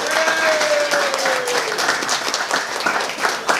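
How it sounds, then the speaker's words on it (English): Wedding guests for Lisa and Ravi break into a loud round of applause one afternoon, dense clapping that stays strong and then thins slightly, with a sustained tone and some faint voices underneath. "Give them a round of applause."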